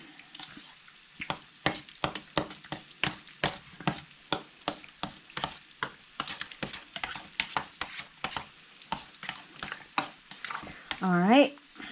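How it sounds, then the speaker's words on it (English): A spoon stirs salsa through a Dorito pie mixture in a dish, making about two dozen rhythmic, soft scraping and squelching strokes up close, ending with a brief vocal sound. "We're going to mix it."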